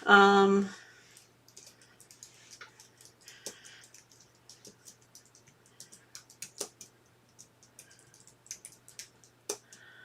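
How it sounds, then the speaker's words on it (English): Someone types on a computer keyboard, with quick irregular clicks and taps in short bursts, close and quiet, following a brief loud tone at the start. "let me type something"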